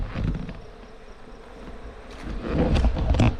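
Honey bees fly out of the front of hive supers in sunlight, a close, buzzy hum that rises and falls as individual bees pass near, with some wind noise.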